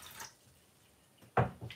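Water is poured from a cup into a cooking pot, a brief close splash and trickle after a faint drip, short and fairly quiet.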